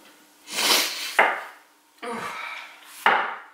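A knife works through onions on a wooden cutting board in a few close, loud swishing strokes, each ending in a sharp knock of the blade, with no talking.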